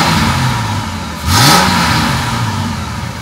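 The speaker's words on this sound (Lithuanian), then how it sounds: "Tai šį variklis gražiai dirba." A car engine revs up sharply during a test drive of a newly bought project car, the pitch climbing then easing back to a steady idle-like hum, close and fairly loud with no talk.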